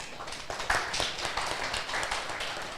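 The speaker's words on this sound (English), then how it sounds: "And yeah, give applause." Faint scattered clapping from a small audience at a university short course prize ceremony, brief and uneven, with light taps and no talk.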